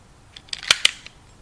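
A spray-painted, sanded plastic gravity blade toy knife slides open with a few quick, sharp plastic clicks close by, two of them louder, in an otherwise quiet moment.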